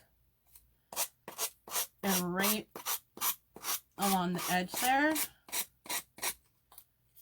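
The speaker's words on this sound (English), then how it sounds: "you're doing this and sanding. You want to sand away from yourself" Rhythmic scratchy rubbing of sandpaper on a paper tag edge in short repeated strokes, close by, with a person talking briefly over it.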